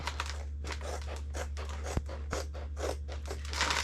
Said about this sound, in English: I'm going to try a pair of cheap scissors first